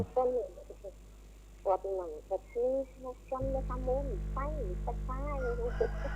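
Chickens cluck and squawk in a series of short, repeated calls close by, heard alongside a voice and a steady low background hum.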